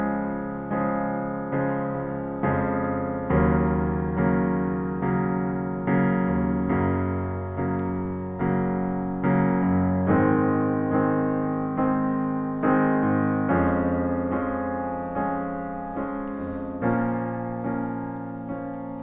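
Piano plays a pop ballad's second verse with the bass moved down an octave and struck on all four beats, a steady pulsing low pattern under sustained chords, loud and alone with no talk.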